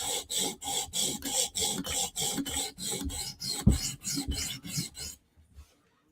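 Rhythmic rasping strokes of a file sharpening a metal blade, about a dozen evenly paced passes, close and fairly loud, stopping abruptly into near silence.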